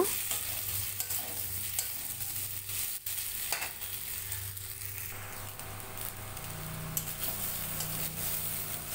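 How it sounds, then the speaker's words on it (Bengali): Taro curry with green chillies is stirred in a frying pan, giving a steady close sizzle with scraping stirs and a few spoon knocks throughout. "কাঁচা লঙ্কা দিয়ে আবারও একটু নেড়ে চেড়ে নেব।"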